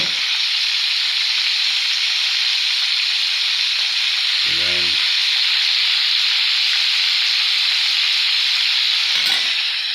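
Fried chicken frying in a pan over a low flame, a loud steady hiss and sizzle running continuously and close, with a brief word spoken midway.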